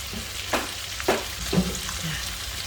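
Garlic shrimp in hot oil in a small earthenware dish keep bubbling and sizzling after the heat is off, with a few louder pops and soft stirring clinks near the microphone and no talking.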